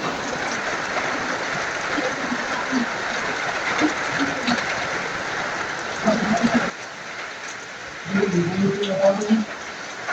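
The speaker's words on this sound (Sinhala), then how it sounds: "දැන් නම් ලාවට වහින්නේ" Light rain falls in a steady soft patter over ten seconds, a dense hiss under a person speaking intermittently nearby.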